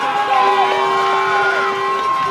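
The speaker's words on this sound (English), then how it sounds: "Crowd getting loud." At a youth mosquito 12-a-side football championship, Kanata Knights against Cumberland Panthers, a crowd cheers and yells steadily, rising briefly, while a commentator talks over the noise.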